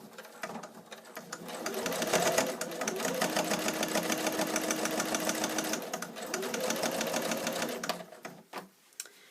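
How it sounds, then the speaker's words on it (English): A sewing machine stitches down the folded edge of a fusible batting tube in a fast, even mechanical chatter that ramps up, runs several seconds with a slight dip, then slows and stops, close and without talk. "folding the raw edges to the center and sew down that outside edge"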